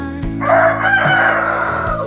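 A rooster crows once, loud and close, in a long drawn-out call on a small farm where chicken manure is collected near newly planted grapevines, with no voices over it.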